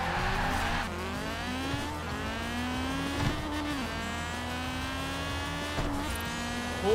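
Honda Civic Type R launching hard in Forza Horizon 4, the engine screaming as it climbs through the revs with rising pitch, dropping briefly at each gear shift before climbing again, loud and steady throughout.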